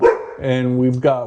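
Dogs bark at a home craps table, the barks rising close and loud over someone speaking throughout, with one sharp yelp near the end.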